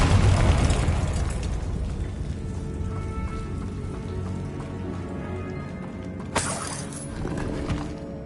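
A Confringo fire spell bursts in Hogwarts Legacy: a heavy fiery blast opens, then crackling debris and rumbling trail off, with a second sharp burst near the end.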